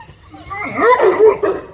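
A Cane Corso whimpers and yips in short, rising bursts at close range, with a few soft vocal cries clustered together.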